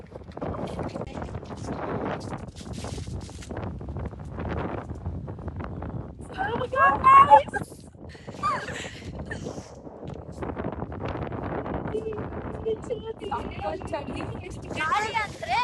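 Monsoon wind buffets the microphone at the top of Mullayanagiri peak, a gusty rumbling roar that swells and fades, with people talking over it throughout.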